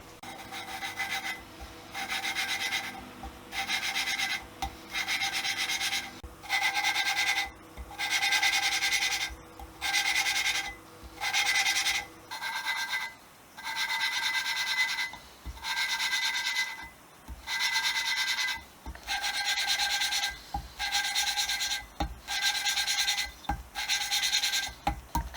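Valves are lapped into a VW Golf Mk2 cylinder head by hand, giving rhythmic back-and-forth gritty rubbing strokes in regular bursts, close and steady, with a faint background hum in the first half.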